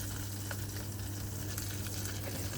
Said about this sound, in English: Hopefully we'll still get that sizzle, we'll still get that cook without it setting on fire.